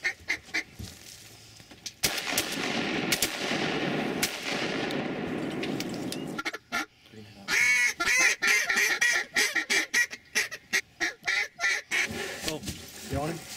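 Shotgun blasts ring out during a waterfowl hunt for geese and mallards, several sharp shots spread across the clip, with duck and goose calls and quacking around them.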